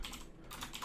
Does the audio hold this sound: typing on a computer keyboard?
yes